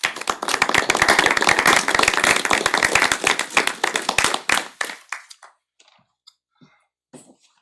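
An audience claps to welcome a speaker, Tom Preston, at a talk: dense, close applause for about four and a half seconds, thinning to a few scattered claps and then quiet.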